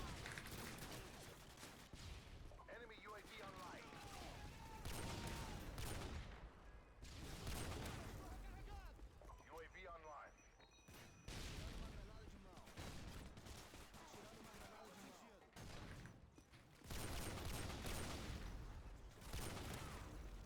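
Sniper rifle gunfire in the video game Modern Warfare 2 during a multiplayer match, with sharp shots and bursts of game action scattered under someone talking throughout.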